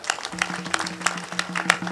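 Audience at a kirtan clapping, an uneven, moderately loud patter of many hands with sharper individual claps standing out, over a faint repeating low tone.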